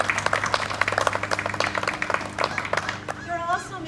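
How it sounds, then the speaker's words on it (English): Audience at a school groundbreaking ceremony breaking into applause, a burst of scattered clapping over a few seconds that thins out as it ends, with a voice speaking over it. "Please give these people a round of applause for an outstanding job."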